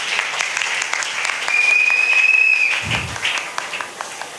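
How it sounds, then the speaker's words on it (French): A church congregation at a women leaders' plenary in Mont Ngafula applauds and cheers for the Lord, a steady wash of clapping that swells midway with a long, high whistle-like tone ringing above it. "Est-ce qu'on peut acclamer pour le Seigneur?"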